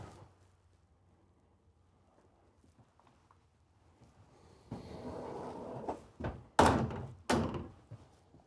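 A drawer slides open and shuts with a few wooden thunks and a firm knock, close by, after a quiet pause.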